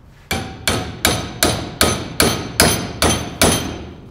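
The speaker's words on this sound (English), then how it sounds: "Let's grab our hammer." A hammer strikes a clamped oxy-acetylene weld nine times in a steady, evenly spaced rhythm, each blow a sharp, loud metallic clang with a short ringing decay, close by and with no talk.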